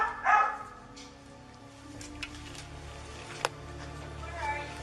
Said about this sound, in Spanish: uno de los perros de la familia comenzó a ladrar sin parar